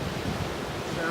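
Ocean surf roars along the rugged Shipwreck Coast of Olympic National Park, a steady broadband rush of breaking waves mixed with wind buffeting the microphone.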